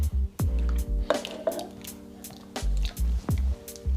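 Diced tomatoes slop wetly into a crockpot for ziti pasta, making several squishy plops and drips spread over a few seconds, with a few light clanks from the pot.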